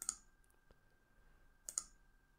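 A computer mouse gives two crisp, quiet double clicks in a near-silent room, the pairs about a second and a half apart.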